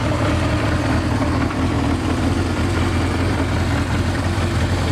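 A 1979 Suzuki GS850G motorcycle, fitted with a Vetter fairing and bags, idles steadily and close by, its engine a continuous even drone with no revving and no talk.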